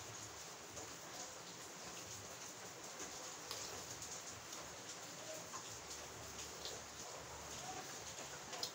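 Quiet, even patter of steady rain, a constant soft hiss with occasional faint ticks of drops nearby.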